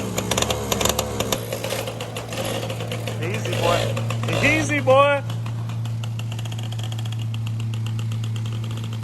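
A Yamaha PW80 dirt bike engine buzzes and revs unevenly in short bursts while someone speaks calmly nearby, with a steady low hum underneath.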